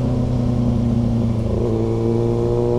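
Steady, loud engine drone of a Kawasaki ZX6R sport bike while riding along a rough country road, a continuous mid-pitched hum with strong harmonics, close and unbroken for the whole stretch with no talk over it.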